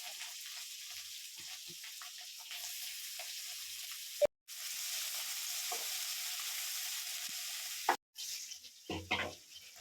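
Onions and green chillies sautéing in hot oil with mustard seeds and curry leaves for chicken curry, giving a steady close sizzle broken by two brief pauses and followed by stirring scrapes.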